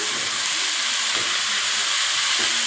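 Oil fries steadily in a pan while mushroom biryani is cooked, a loud, continuous, close hiss and crackle with no talk.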